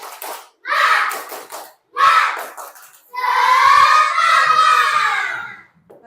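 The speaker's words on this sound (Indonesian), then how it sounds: "Tepuk semangat." A class of children in a Hindu religious lesson performs a rhythmic clapping chant, with loud group shouts in short bursts followed by a longer sustained cheer, all close and lively.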